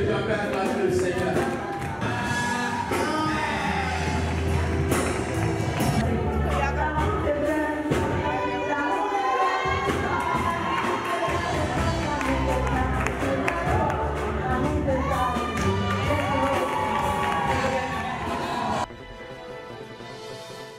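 A large crowd at a worship gathering cheers and claps continuously, a dense, loud roar of voices and applause with raised shouts, thinning abruptly near the end.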